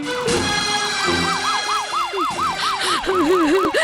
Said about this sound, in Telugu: అదిగో రండి, అంబులెన్స్ వచ్చింది.